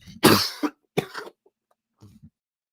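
A person coughs a few times in quick, harsh bursts, close and loud, trailing into softer throat-clearing noises with no talking.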